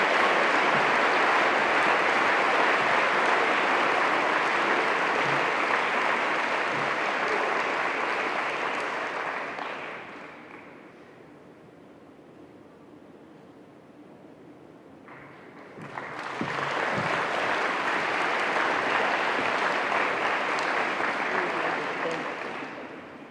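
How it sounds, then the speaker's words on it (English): Sustained, loud audience applause at a cystic fibrosis care conference plenary session, dense broadband clapping that dips to quieter scattered claps midway before swelling back to full strength. "Again, one more round of applause."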